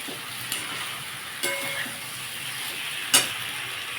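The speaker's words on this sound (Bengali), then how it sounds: "দিয়ে এটা দিয়ে ভালো করে আর একটু কষিয়ে নেবো" Potatoes and pointed gourd sizzle and crackle as they are stir-fried in spices in a pan, a steady frying hiss broken by a few sharp bursts from stirring.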